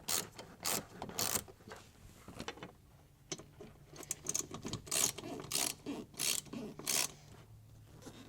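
Bolts under a John Deere Gator XUV seat base being loosened, with a wrench ratcheting in short rhythmic rasping bursts, close and fairly quiet.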